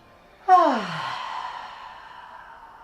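A slow, deep exhale during a yoga breathing exercise, one breathy sigh that starts with a voiced drop and trails off into a long soft airy fade, close and clear with no other sound.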